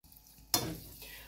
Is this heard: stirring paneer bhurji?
yes